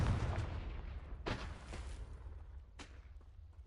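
In Hogwarts Legacy, a Confringo fire spell is cast, giving a few faint booming blasts with crackling tails, spaced out over quiet background ambience.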